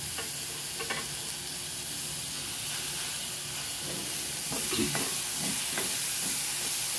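Sprouted moth beans (matki) stirred through a tempering of roasted green chillies in a frying pan, giving a steady close sizzle and hiss with scraping stir strokes that pick up and grow busier toward the end, no voices.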